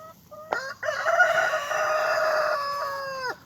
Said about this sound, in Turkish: Horozlar da birbirini ötüyor.